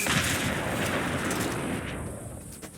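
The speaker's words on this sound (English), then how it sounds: "Maybe another mini nuke will do the trick." Mini nuke detonation in Fallout 4: a loud, sustained rumbling blast fills the opening seconds, then slowly decays, with no voices present.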